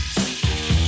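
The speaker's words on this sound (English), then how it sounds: "You should hear a sizzle when you put your fish in." Salmon fillets laid into olive oil in a hot pan give bursts of loud, close sizzling and spitting, rising in three waves as each piece goes in.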